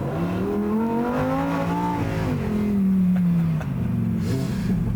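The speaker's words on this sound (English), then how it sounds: "if you switch to Sport mode, even the smallest press on the gas pedal" A 2022 Lamborghini Huracán Tecnica engine revs hard in Sport mode, pitch climbing and falling in a loud, throaty roar close by, with no talking.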